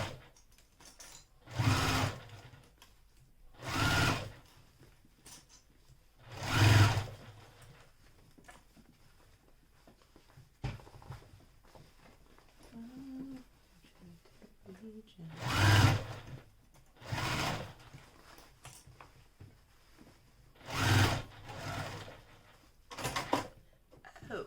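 A sewing machine stitches fabric for a small Tribiani bag, running in several short, close bursts separated by quiet pauses.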